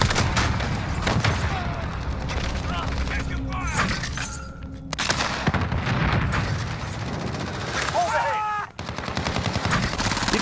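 Sustained gunfire from the Modern Warfare video game, rapid automatic bursts and blasts filling the clip loud and dense, with game voices and player chatter mixed underneath.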